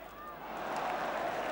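Football crowd at a 1980 Spurs versus Manchester United match, a steady broad wash of crowd noise and applause swelling slightly, heard at a distance under commentary.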